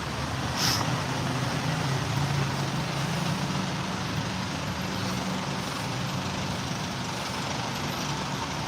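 Road traffic in Samyan, Bangkok rumbles as a steady close wash of engines and tyre noise, with one brief higher squeal early on and no one speaking.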